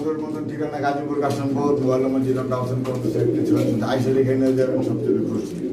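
Pigeons coo repeatedly at a wholesale pigeon farm in Bangladesh, their soft rolling calls close and steady beneath a person talking throughout.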